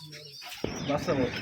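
Rajshahi Giribaz and high-flying pigeons at a pigeon loft, a short close burst of soft cooing after a brief quiet start, with some murmuring voices mixed in.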